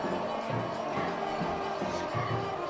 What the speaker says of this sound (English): This crowd's fired up for this one.